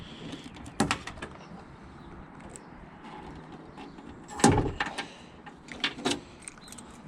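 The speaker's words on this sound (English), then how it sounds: "Let's open the trunk." The rear hatch of a Toyota Corolla TE72 is opened: a key jangle and a metallic latch click, then a loud mechanical clunk and creak as it releases, followed by scattered softer rattles and knocks, close up, with no talking.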